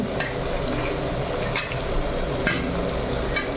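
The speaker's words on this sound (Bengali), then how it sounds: "ভালো করে ভেজে নেব পেঁয়াজ" Onions fry in a pan with a steady crackling sizzle, broken by occasional sharp clicks of a utensil against the pan.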